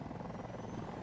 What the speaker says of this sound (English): Alright, I'm in a helicopter.